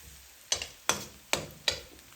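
Ginger and garlic frying in a pan for a cauliflower and pea masala, with four sharp sizzling bursts at regular intervals as the mixture is stirred, each fading quickly into a quiet crackle.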